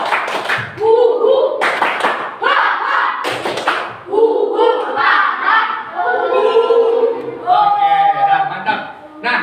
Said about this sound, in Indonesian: Lagi, sekali lagi, tepuk semangat.